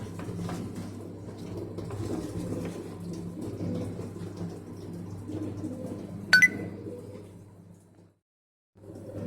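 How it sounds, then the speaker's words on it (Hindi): Water fills a Samsung 6.0 kg fully automatic washing machine with a steady rush and low hum, broken by a sharp click before the flow stops briefly and starts again. "अभी पानी फिल हो रहा है अंदर।"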